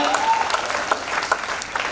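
A dense burst of audience applause fills a training seminar hall, many hands clapping together loudly and continuously for about two seconds.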